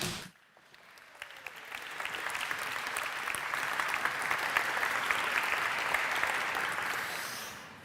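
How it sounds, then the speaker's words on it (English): An audience at a climate politics forum gives sustained applause. It swells from a faint start into a steady, full wash of clapping and tapers slightly near the end. "And yes, you deserved all those applauses"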